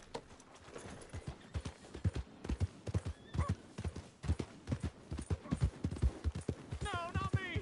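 A horse in Red Dead Redemption 2 gallops with brisk, rhythmic hoofbeats that pound steadily and close throughout, then lets out a high, wavering whinny at the very end.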